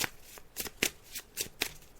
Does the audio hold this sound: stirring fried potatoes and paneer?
no